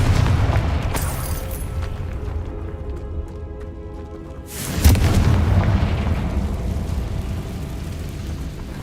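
A Confringo blasting spell bursts with a loud boom in the middle of the Hogwarts Legacy game, and the blast rumbles and rolls on afterward over a steady low game ambience.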